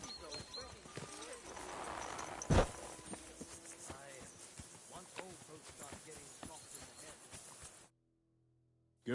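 Horse hooves clip-clopping at a walk in Kingdom Come Deliverance 2, with a steady close rhythm of hoof strikes and a sharp louder hit partway through before the sound cuts to silence.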